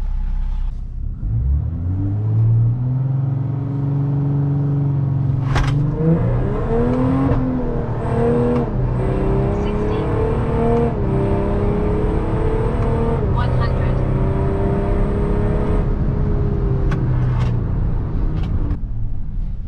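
Volkswagen Amarok V6 pickup with a stage 2 tune in automatic D, accelerating hard from 0 to 100 km/h: a loud, steady engine roar climbing through gear changes for most of the run, with people talking over it.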